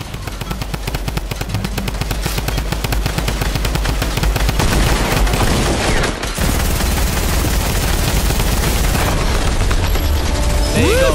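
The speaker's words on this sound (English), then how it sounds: "Who's shooting them?" Rapid automatic gunfire and grenade blasts in a multiplayer shooter video game, loud and nearly continuous with dense bursts of shots and mechanical clatter throughout, no voices.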